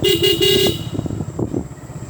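A car moves along a road with steady engine and tyre noise; a horn honks in short repeated toots at the start.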